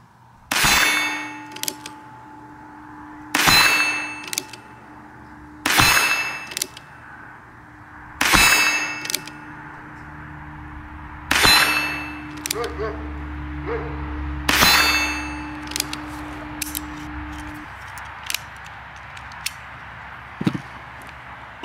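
A Ruger Wrangler revolver fires six evenly spaced shots outdoors, each crack followed by a ringing clang from the steel targets, with faint background noise afterward.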